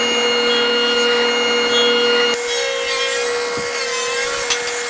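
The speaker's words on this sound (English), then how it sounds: "With our stacked dado set up, we can now do our tongue and groove portions of our stile and rail set." A stacked dado set on a power saw cuts tongue-and-groove profiles into wooden stile and rail pieces for a cabinet door, a loud steady whine with a sharp change in pitch and texture midway as the blade enters the wood.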